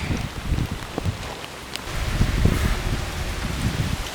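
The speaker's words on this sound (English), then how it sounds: "It's starting to rain." Rain patters steadily nearby, mixed with low rumbling and a few louder drops or knocks, no voices.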